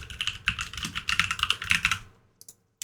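Rapid typing on a computer keyboard, a quick run of crisp, close clicks and taps for about two seconds, then a pause and a couple of final isolated key presses.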